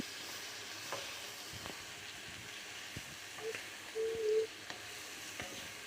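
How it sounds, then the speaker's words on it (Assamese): Meat and potato chunks frying in a pan give a steady, quiet sizzle throughout, with a few soft clicks and one brief louder burst of hiss and scraping near the middle, no voices. "এনেদৰে ফ্ৰাই কৰি থকা হৈছে"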